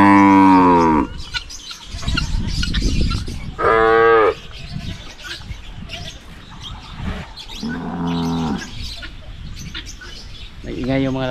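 Male cattle on a Philippine farm mooing loudly and close, several long, drawn-out calls spaced through the clip, with birds chirping faintly and a person talking in the background.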